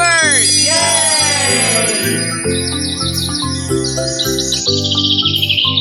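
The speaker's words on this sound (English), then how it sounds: "It's a bird!" A bird chirps and tweets in quick, bright repeated calls over a cheerful tinkling musical backing, loud and close for several seconds.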